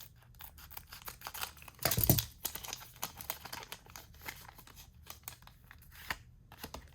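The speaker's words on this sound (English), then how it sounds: "this is going to be a pack for scissors" Close scissors snipping and crinkling the plastic wrapper of a Pokémon trading card pack, with a louder cut near the start followed by rustling and small clicks.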